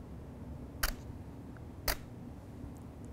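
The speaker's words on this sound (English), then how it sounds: "So I'll operate the shutter and move the zoom at the same time, from 50 to 70." Two crisp camera shutter clicks about a second apart, each with a short mechanical snap, taken while the lens zooms from 50 to 70 mm, faint and close in a quiet room.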